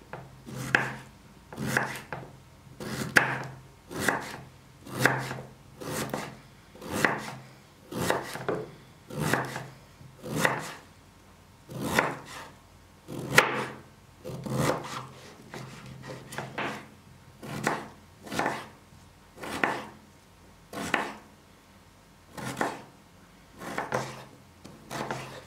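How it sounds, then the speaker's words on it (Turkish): Beetroot for homemade şalgam is finely chopped with a knife on a wooden board, giving a long series of close, crisp, evenly spaced chops in a steady rhythm, with no talking. "Bu pancarımızı şöyle ince ince doğrayacağım."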